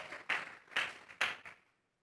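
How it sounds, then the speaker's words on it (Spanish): A church congregation claps in a few short, quiet bursts of applause that fade out within two seconds. "Vamos a regalarle ofrenda de palmas al Dios de la gloria."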